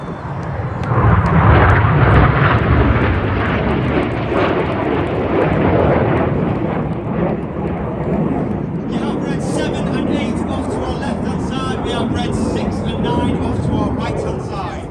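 RAF Red Arrows jets fly a display at an air festival with a loud, continuous roar that holds for the whole stretch. A brighter, higher whine joins partway through.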